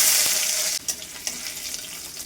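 Crushed garlic is dropped into hot oil already frying with a dried red chilli and white cumin, giving a loud, close hiss that cuts off abruptly after under a second and then settles into softer, intermittent crackling.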